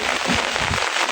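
Rain falls steadily in Sylhet, a dense, continuous patter across the whole short stretch with no voices.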